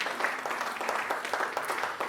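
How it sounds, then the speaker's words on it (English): Theatre audience applauding at an anniversary celebration, a steady, moderately loud patter of many hands clapping at once for a couple of seconds. "Give yourselves a round of applause."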